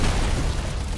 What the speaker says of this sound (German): diese großen Explosionen, das sind diese, ich weiß gar nicht, wie die heißen, die Gegner. Die platzen einfach, wenn man näher rankommt.